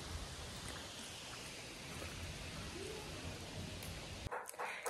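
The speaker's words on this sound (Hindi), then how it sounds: "हल्की हल्की बारिश गिर रही" Steady soft hiss of light rain falling, continuous and even throughout, with a few brief knocks near the end.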